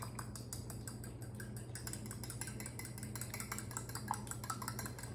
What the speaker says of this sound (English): I'm gonna get a fork, of course, to beat the eggs like I always do.